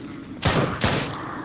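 Two heavy, close gunshots ring out about half a second apart in the shooting video game Drop Dead: Dual Strike, each a loud boom with a short echoing tail.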